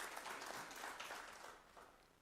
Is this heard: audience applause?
yes